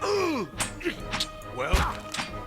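Combat in the Pillars of Eternity role-playing game: shots and weapon hits land in quick succession, with sharp impact thuds, whooshing effects and grunting voices mixed over a busy game soundtrack.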